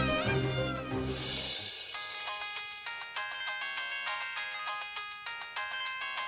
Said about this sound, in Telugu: శేఖర్, ఫోన్ రింగ్ అవుతుంది.